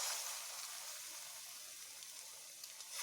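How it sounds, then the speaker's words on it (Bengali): Jackfruit fritters frying in hot oil, a faint, steady high sizzle and crackle without talk. "এভাবে আমি বড়া আকারে এগুলোকে ভেজে নেব।"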